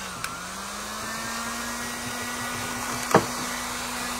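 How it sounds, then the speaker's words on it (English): Heat gun blowing on WoodUbend moulding, a steady whooshing hum with a faint rising tone, continuous and close, broken by a brief sharp knock. "And there's the top of my heat gun"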